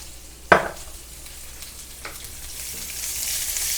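Garlic, ginger and onion sizzle in a hot pan for an Indian chicken curry, a steady hiss that swells slightly toward the end, broken by a sharp scrape of stirring near the start and a softer one later.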